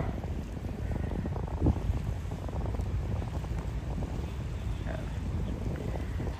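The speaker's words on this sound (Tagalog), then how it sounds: "Malakas yung hangin." Strong wind buffets the microphone at Dolomite Beach on an overcast morning, a steady loud rumbling roar that never lets up, with faint sea sounds underneath.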